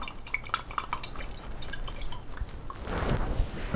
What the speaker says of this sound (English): You want a high rim pan here because we're gonna put some olive oil in here